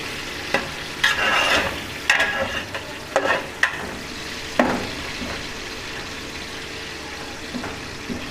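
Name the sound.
sliced onions frying and being stirred in pot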